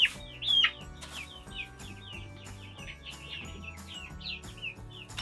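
Barred Rock and Gold Laced Wyandotte chicks peep in quick, high chirps, a steady overlapping chatter with a few louder calls near the start.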